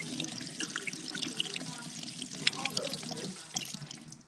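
Tap water runs steadily into a kitchen sink as fresh ginger is rinsed, a continuous close splashing rush with faint background voices.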